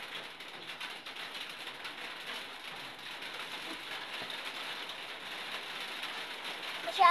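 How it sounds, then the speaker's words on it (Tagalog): Heavy rain pours in a steady, fairly faint hiss of dense drops hitting a surface, continuous with no talk, rising slightly at the very end. "Masyadong malakas po yung ulan"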